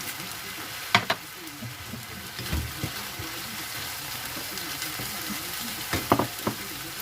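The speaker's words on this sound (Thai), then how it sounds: "เราก็จะเอามาผัด เนื้อเราก็เริ่มสุกแล้วนะคะ" Ground beef with dried chillies stir-fries in a pan, a soft steady sizzle broken by a few scraping stirs and light clinks, fairly quiet and close.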